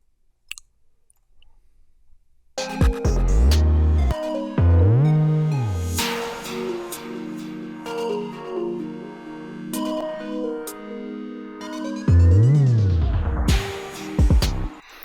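Hip-hop beat in FL Studio with deep 808 bass slides and busy hi-hats, passing through a low-pass EQ transition that muffles the mix before it opens back up for the hook; loud, no voices.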